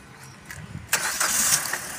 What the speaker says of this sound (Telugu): బండి అయితే ఒక్క సెల్ఫ్గా స్టార్ట్ అయిందండి